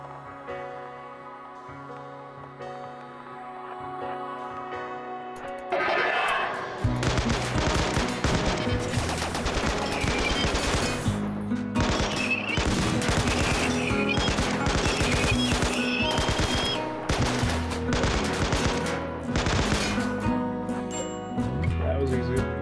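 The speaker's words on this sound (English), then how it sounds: "Horrible gunshots and violence." Video game gunfire from Rimworld with Soviet mercenary elves crackles in rapid bursts of shots layered over loud, dense game music, the volleys repeating irregularly throughout at close range.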